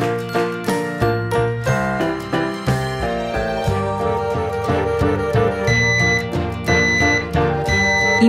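A Nest Protect smoke and carbon monoxide alarm plays a clear, loud melodic chime in repeated ringing phrases, followed by sharper high beeping tones toward the end.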